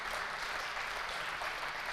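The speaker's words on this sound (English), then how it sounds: "can we give a round of applause for all of our lightning?" Conference audience applauding, a dense even wash of clapping held steady and moderately loud for the whole moment, with no talk on top.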